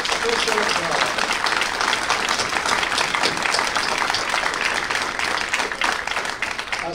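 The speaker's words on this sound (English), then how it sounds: "I think we should give special applause" An audience at a memorial service in a theater in Keflavík, Iceland, applauds with a dense, loud, sustained wash of clapping that holds steady from start to finish.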